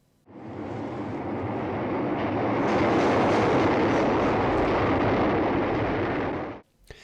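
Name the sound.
train driving through a subway tunnel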